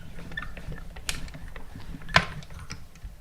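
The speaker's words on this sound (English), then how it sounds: "all of these dies will fit through the mini machine" A mini die-cutting machine is cranked for a birthday card, a close mechanical ratcheting and gear rattle with clicks and one sharper clack.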